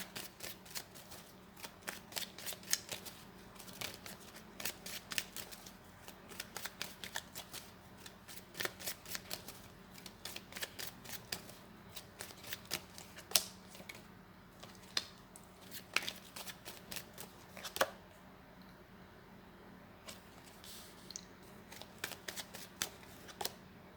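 Tarot cards shuffle in repeated quick riffling bursts, crisp and close, with irregular pauses between runs and no talking.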